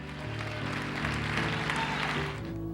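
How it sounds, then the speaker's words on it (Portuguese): A church congregation applauds during a worship service, a continuous wash of clapping over sustained music tones, moderately loud and unbroken. "Aplauda o Senhor, glorifica o Senhor."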